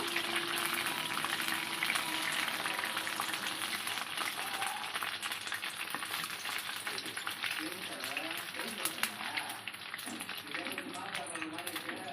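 Chicken pakoda frying in hot oil, a constant loud crackling sizzle filling the whole stretch, with a voice talking faintly over it.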